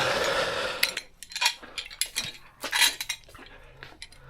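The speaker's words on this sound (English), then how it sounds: "I'm going to grab a clamp for that." Metal clamp being picked up and handled in a workshop while building a camera mount, a series of close, sharp clinks and rattling knocks with brief scraping rubs between them.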